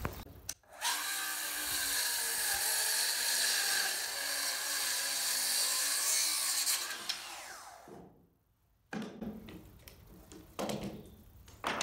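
Saw cutting through a live-edge Western Red Cedar board, a loud continuous buzzing rasp for about seven seconds, then a pause followed by short scraping and knocking sounds.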